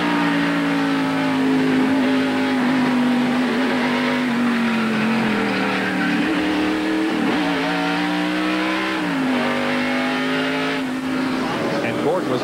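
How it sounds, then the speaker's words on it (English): A NASCAR stock car at the 1993 Bud 500, heard from the in-car camera while running down into turn 3: a loud, steady engine drone with pitch shifts as it lifts and gets back on the throttle, over broadcast commentary. "Let's look at this in-car camera from Jeff Gordon's car and listen to it as they go down turn 3"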